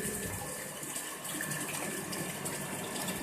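Water flows into a tank through a solenoid valve on a 555-timer water level controller, a steady, close, continuous gushing rush with no pauses.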